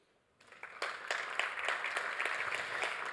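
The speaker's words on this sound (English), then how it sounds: "So please, a warm round of applause." Audience applause after a speaker's introduction at a PostgreSQL talk, starting quietly and swelling into steady, dense clapping with a few louder individual claps, sustained to the end.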